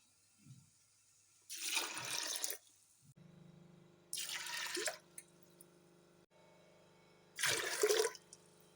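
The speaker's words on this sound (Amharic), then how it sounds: "ሶስት ብርጭቆ ውሃ ጨምሬበታለሁ።" Water from glasses is poured into a pot of lentils for jadra, a lentil and rice dish, in three separate splashing pours, each lasting about a second, with quiet gaps and faint drips between.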